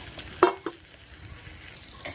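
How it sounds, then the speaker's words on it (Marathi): A couple of metal clinks of a spoon stirring spices and asafoetida in oil in a pan over a soft, steady sizzle of frying. "मसाले छान परतून घेऊया"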